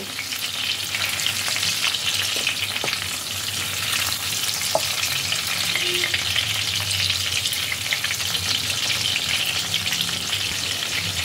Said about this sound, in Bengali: মাছগুলোকে দুপাশ উল্টে আমি ভালোভাবে ভেজে নেব।